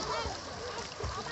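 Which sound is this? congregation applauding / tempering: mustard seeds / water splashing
water splashing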